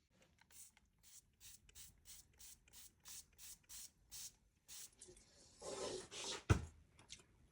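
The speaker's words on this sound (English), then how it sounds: "I've got a really handy spray bottle and a cocoa shaker." A handheld spray bottle mists water in a printmaking session, with about a dozen short, evenly spaced hissing squirts followed by a few longer, louder bursts, close by and without talk.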